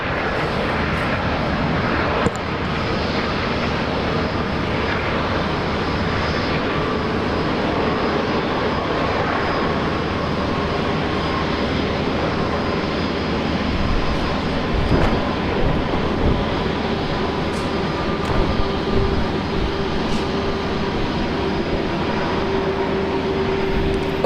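An eight-year-old Emirates A380 takes off from runway 19 right at Brisbane Airport, a loud continuous jet roar that holds steady throughout, with a low rumble beneath, and no talk.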